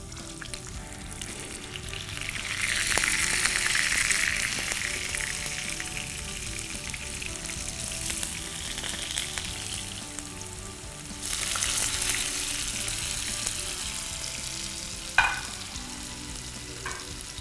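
Potato wedges are placed into hot cooking oil in a pan and fry with a continuous close sizzle that swells at moments, with a brief clatter of utensils near the end.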